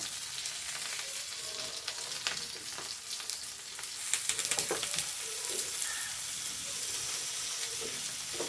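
Mackerel and prawns sizzling steadily in a hot pan for pollichathu, a continuous crackling fry with occasional sharper pops and spatters, close and fairly loud, no talking.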